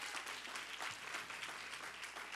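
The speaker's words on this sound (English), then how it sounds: "Clap for yourself that you were able to make it tonight." A church congregation claps together at an anniversary conference, a steady wash of dense applause filling the room without a break, fairly faint and distant, with no voices over it.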